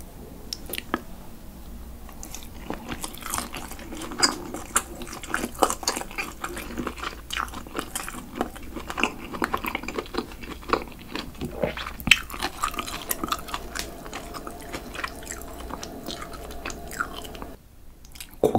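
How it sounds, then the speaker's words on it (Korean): Close-up chewing of charcoal-grilled pork, soft wet squishes and bites repeating steadily for many seconds, with brief quiet gaps and no talk. "아, 이번에는 고기를 먹어보겠습니다."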